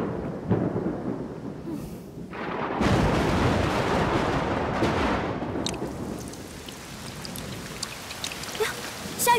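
Rain falls in a steady broadband wash at an outdoor period drama scene, rising to a heavier downpour partway through and holding at moderate loudness, with no voices over it.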